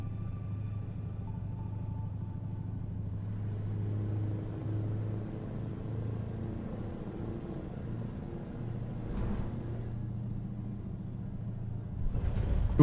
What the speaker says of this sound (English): This truck sounds like it's falling apart.